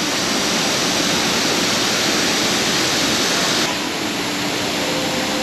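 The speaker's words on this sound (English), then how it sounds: "These waterfalls coming down from the rocks here, right in the centre of Taipei." Waterfalls pour down over rocks at a temple in central Taipei, a dense, steady rushing roar of falling water filling the scene without a break.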